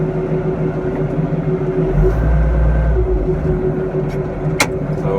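A forklift engine idling at a one-man workshop during a truss build, a steady close low-pitched drone that briefly swells louder midway, with a sharp clank near the end.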